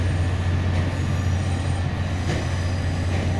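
A Southern Class 377 electric train rolls into a station platform with a steady loud rumble of wheels on rail and a low motor hum, faint squeals rising briefly over the continuous drone.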